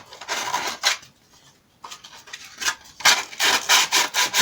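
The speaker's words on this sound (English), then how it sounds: "so we take some sandpaper" Sandpaper rubbed by hand over a rough part for a stormtrooper costume's bicep piece, in close, loud rasping strokes that come in bursts with short pauses.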